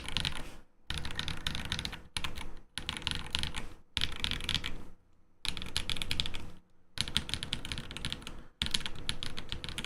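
Typing on a mechanical keyboard with freshly swapped switches, close and loud bursts of rapid higher-pitched keystrokes separated by short pauses.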